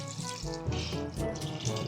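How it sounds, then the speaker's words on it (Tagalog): A glass of water poured into a cooking pot, a steady close splashing and gurgling stream that runs continuously without talk. "So, lagyan lang natin ng tubig."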